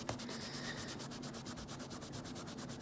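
Guitar frets on a Donner guitar being rubbed to polish them, a rapid, even back-and-forth scrubbing rhythm, close and moderately loud, with no voices.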